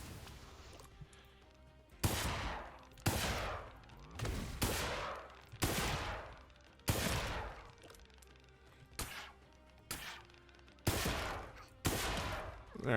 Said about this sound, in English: sniper rifle on the wind gun is pretty good too